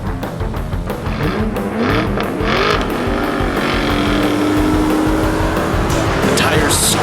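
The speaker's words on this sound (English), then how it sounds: "The tires screech as you cut in front of a few cars." Tires squealing as a small Renault Fiat hatchback swerves around and cuts in front of several cars in traffic, a rising screech over loud engine and road noise, with voices talking throughout.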